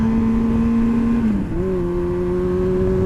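A motorcycle being ridden, its engine holding a steady loud drone with a brief dip and shift in pitch midway, as if changing gear, close and continuous throughout.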